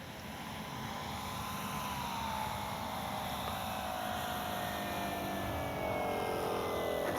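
An Avios Extra NG 1600 RC aerobatic plane flies past in gusty wind, its electric motor giving a steady whine with a slowly falling pitch as it slows and passes, over constant wind rumble.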